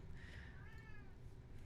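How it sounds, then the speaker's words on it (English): A house cat meows for attention somewhere behind the listener, a single faint drawn-out call rising and falling over a low steady background hum. "I can also hear one of my cats behind me demanding my attention."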